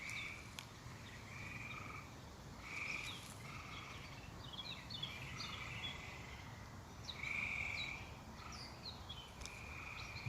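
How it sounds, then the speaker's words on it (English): A chorus of frogs calls steadily over a noisy outdoor background, with repeated trilling croaks rising and falling at moderate distance. "frogs doing their mating calls."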